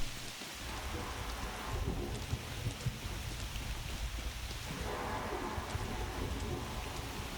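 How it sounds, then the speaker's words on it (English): Video game audio: steady rain pours throughout, with low rumbling thunder rolling underneath and occasional louder crackles; no voices. "Thunder sounds are a bit strange."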